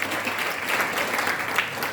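Church congregation clapping together at a worship service, a steady dense wash of applause that stays even and fairly loud throughout, with no voices standing out.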